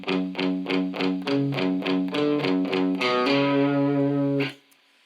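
A crunchy, overdriven electric guitar plays a riff transposed to the 5th string, a short run of punchy notes ending on a sustained ringing chord that cuts off abruptly.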